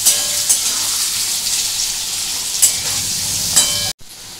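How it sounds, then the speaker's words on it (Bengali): Potatoes with turmeric fry in a pan, a loud continuous sizzle with a few sharp stirring scrapes, cut off abruptly near the end. "একটু আলুটাকে আমি ভাজা ভাজা করেছি"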